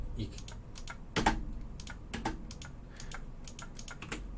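Rapid, uneven clicking of keys on a computer keyboard, close by, with a few heavier key presses mixed in.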